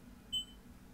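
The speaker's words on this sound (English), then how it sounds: "I'd add a beeping sound on every second" A single short electronic timer beep from an ActionScript 2.0 game, quiet and clean, stands out briefly against a low background hum.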